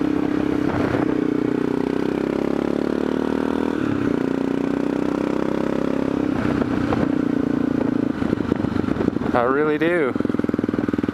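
An Aprilia Pegaso motorcycle engine lugs and grinds in third gear with a low, steady, labored drone. Someone speaks briefly over it near the end.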